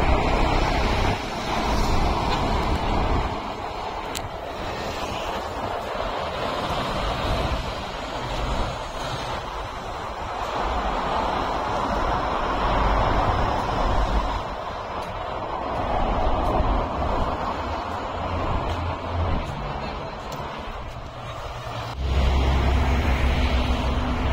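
Steady traffic on a big road below a pedestrian walkway in Singapore, a constant broad wash of car and truck noise with swells as vehicles pass, no voices, loud and continuous throughout.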